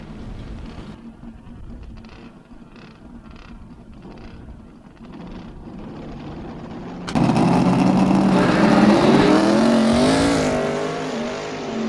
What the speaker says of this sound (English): car number 88 roaring onto course